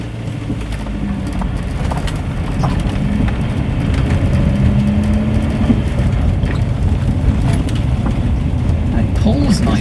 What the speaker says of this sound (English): And it pulls nicely, it seems to be quite a torquey engine.